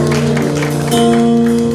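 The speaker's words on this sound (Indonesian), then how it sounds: "Boleh beri tepuk tangan sekali lagi" A church congregation gives a short round of applause, dense clapping blended with sustained music tones playing underneath, moderately loud and continuous.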